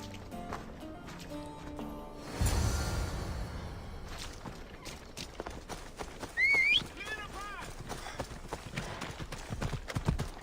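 Hooves clip-clop steadily as a horse gallops in the video game Assassin's Creed Odyssey, a rhythmic near patter under game music and a voice, with a burst of whooshing motion partway through.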